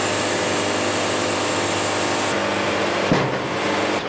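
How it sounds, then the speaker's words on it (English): A hydraulic sawmill's chain turner and log clamp lifting the end of a maple log, a loud continuous hydraulic whine and motor drone with a brief clunk near the end as the pitch shifts. "I can use both chain turner and the log clamp to hold this whole end of the log up"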